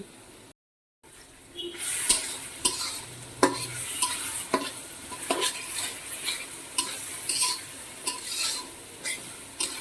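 Black pepper, cloves and cardamom fry in hot oil with a busy sizzle, punctuated by repeated scraping and clinking strokes of a spoon stirring the pan, close and fairly loud after a brief silent gap.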